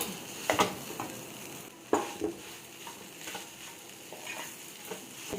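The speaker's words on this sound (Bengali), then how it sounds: "এই আলু সিদ্ধটা দিয়ে দেবো।" Boiled potato goes into a frying pan with a frying stuffing mixture for potoler dorma. A quiet sizzle runs under scattered scrapes and taps of stirring.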